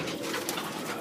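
Pigeons coo softly in a breeding loft of foster pairs, a faint low murmur of calls under steady background hiss.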